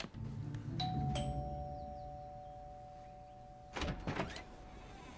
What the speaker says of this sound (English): With determination, Dean pushed the doorbell with forceful determination.